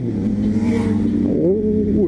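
A Yamaha R1 motorcycle revs on an avenue, its engine note climbing in pitch near the end, close and steady throughout.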